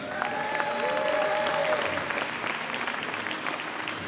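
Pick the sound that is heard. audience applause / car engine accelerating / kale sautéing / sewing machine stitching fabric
audience applause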